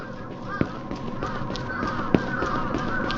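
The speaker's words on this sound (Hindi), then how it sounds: "फिर से इतने सारे कौवे।" Several crows caw in the horror video game Akai Onna, with repeated harsh calls overlapping above a steady eerie background drone.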